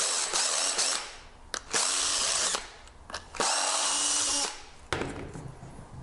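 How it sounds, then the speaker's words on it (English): A countersinking bit in a power drill takes burrs and slag off cut metal rack tubing, running in three or four loud, steady whirring bursts with short pauses between them. "we're gonna take a countersinking bit"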